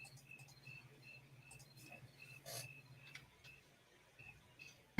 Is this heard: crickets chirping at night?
yes